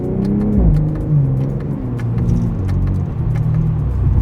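BMW M340i engine and exhaust while driving, a loud, deep continuous drone with shifting pitch as it rises and settles, with faint rattles over the top and no talking.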